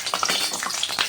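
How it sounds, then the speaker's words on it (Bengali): Potatoes frying in hot oil, a dense close-up crackling sizzle with quick popping spatters, steady throughout with no voices. "তেলটা গরম হয়ে গেছে, আলুটা ভেজে নিই"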